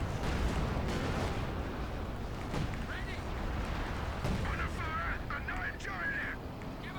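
Artillery fire rumbles through a Company of Heroes 2 match, with heavy low booms and sharp cracks spread over a continuous battle din, while voices and squeaky effects come and go.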